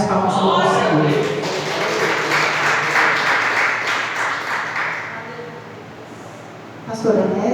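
Congregation clapping at an Assembleia de Deus church service, a full sustained round that gradually thins out, followed by a voice starting to speak near the end.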